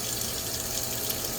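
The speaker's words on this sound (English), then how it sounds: "I've got the hot water going." Hot water runs from a tap into a sink in a steady, continuous splashing stream, close and moderately loud with no speech.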